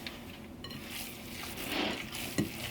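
A spoon scrapes and mixes seasoning into jerky meat in a bowl, a short soft sequence of wet stirring and light clinks with one sharper knock near the end.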